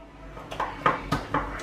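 Yam and plantain salad seasoned with dried thyme is tossed in a bowl, producing four or five short, soft clinks and thumps in quick succession, close and fairly quiet.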